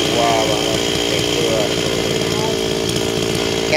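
Chainsaw roaring steadily and loudly while cutting a yellow-flowered tram tree that is about to fall toward a house, the engine held at high revs throughout with a constant buzzing drone.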